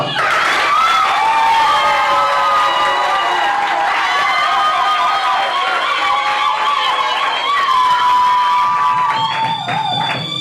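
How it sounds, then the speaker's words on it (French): Wedding guests applauding and cheering at a civil ceremony, loud sustained clapping mixed with shouts and whistles, with voices rising above the crowd. "Applaudissons."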